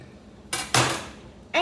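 A knife cuts through an aubergine on a cutting board, giving two sharp knocks on the board about a quarter second apart and another at the end, with a quiet kitchen backdrop.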